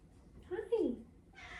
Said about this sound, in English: My cats are screaming at me.